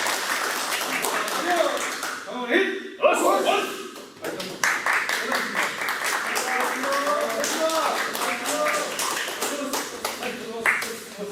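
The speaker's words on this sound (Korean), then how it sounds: "박수 한번 쳐주시고." People in a karate training hall applaud after a Kyokushin sparring session, scattered claps and taps rising and falling, mixed with lots of nearby talk throughout.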